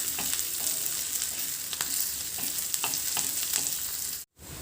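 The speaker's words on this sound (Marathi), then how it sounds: "कढीपत्ता टाकून घ्यायचा आहे आणि 1-2 मिनिट हे थोडं परतून घ्यायचं आहे." Curry leaves and onion sizzle in a pan on a tawa while a spoon stirs through them, steady frying hiss with light intermittent scraping taps, close and continuous, briefly cutting out near the end.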